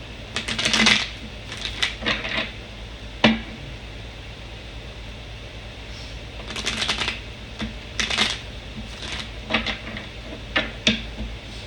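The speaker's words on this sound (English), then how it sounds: "I was shuffling and this card just fell out" A deck of tarot cards being shuffled by hand in bursts of crisp riffling and flicking, several separate shuffles with quiet pauses between them, close and clear.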